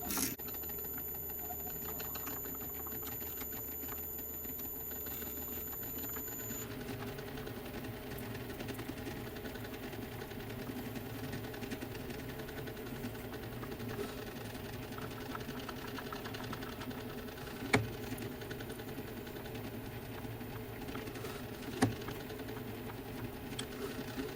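A 7mm drill bores through a Hayabusa motorcycle gear stick, producing a steady, close mechanical whirr and grinding drone that runs unbroken, with a couple of sharp clicks near the end.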